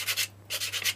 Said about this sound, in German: nachschleifen mit Schleifpapier.